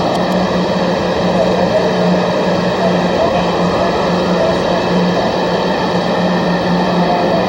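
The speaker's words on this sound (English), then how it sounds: "you can hear military planes going over" Military planes flying over Brooklyn produce a steady, broad roar with a low hum, continuous and loud throughout.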